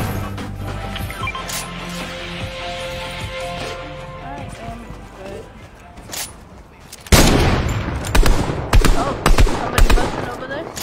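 Video game gunfire rings out in a bright burst of rapid, loud shots about two-thirds of the way through, aimed at a tree, after quieter game ambience and background sounds.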